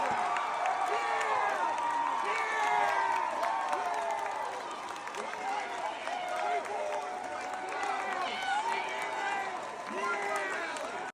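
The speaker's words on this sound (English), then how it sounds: "And this is them cheering." A crowd cheers and whoops at a political event, a steady wash of voices with rising shouts and applause-like texture that carries on without a break.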